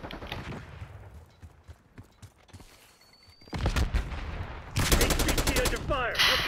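Gunfire in Call of Duty Black Ops: scattered single shots at first, then dense bursts of rapid automatic fire, loud and close, with brief in-game voice chatter.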